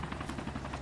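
Enemy helicopter in the video game ArmA 2, its rotor a faint, rapid, even chop over a low rumble, heard from some distance.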